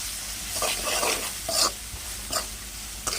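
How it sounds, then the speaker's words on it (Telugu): Ivy gourd fry with salt, chili powder, ginger paste, turmeric and coriander powder is stirred in a pan. Repeated close scraping strokes sound over a steady light sizzle, with no talking. "ఉప్పు కారం అల్లం పేస్ట్ పసుపు వేసి మంచిగా కలుపుకోవాలి"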